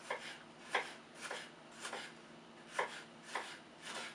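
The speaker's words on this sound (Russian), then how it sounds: "Нарезаем тоже перец соломкой." A knife cuts green pepper into medium strips on a board in about seven separate crisp strokes, spaced roughly half a second apart, with no talking.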